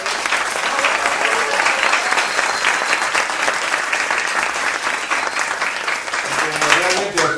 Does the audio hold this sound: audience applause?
yes